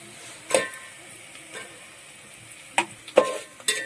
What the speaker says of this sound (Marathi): तर हा मसाला थोडा वेळ तळून घेऊ